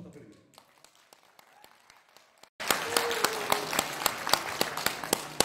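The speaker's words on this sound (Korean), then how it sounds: "큰 박수 부탁드립니다." Audience applause breaks out abruptly after a quiet stretch, a loud, dense wash of many hands clapping with sharp individual claps standing out, following an introduction at a formal ceremony with a general present.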